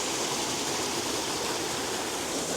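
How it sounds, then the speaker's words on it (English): A small waterfall along a wild hiking trail pours with a loud, steady rushing hiss, close and unbroken, with no voices over it. "I think there's a little waterfall back there."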